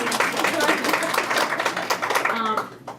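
An indoor audience at a community gathering at a Hope Center claps in dense, steady applause that fades toward the end, with a speaker's voice audible over it.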